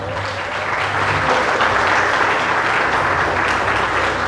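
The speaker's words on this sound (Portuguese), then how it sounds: "Aplauda Jesus de Nazaré." Congregation applause at a church service, steady dense clapping that swells slightly and holds for several seconds, loud and close, with no talk over it.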